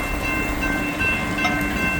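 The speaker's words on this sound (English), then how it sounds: "Anyways, here comes that train, Norfolk Southern." A Norfolk Southern train rolls past a road crossing in a steady, loud rumble with faint high ringing tones, heard from close by outdoors with no talking.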